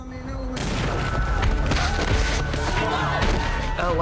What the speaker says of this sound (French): On voit comme un flash, suivi d'une explosion.